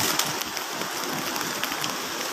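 Heavy rain pours steadily at a Thai temple during a monk's morning alms round, a dense, loud, even hiss of drops spattering on surfaces with no break.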